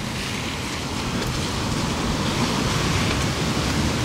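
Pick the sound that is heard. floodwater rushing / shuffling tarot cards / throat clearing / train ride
floodwater rushing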